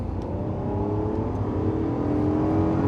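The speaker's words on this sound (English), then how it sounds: "This engine sounds like nothing else once it comes alive." A Honda NSX's 3-litre VTEC V6 revs hard from inside the cabin, a loud, steady, building engine drone with layered harmonics sustained throughout and no talking.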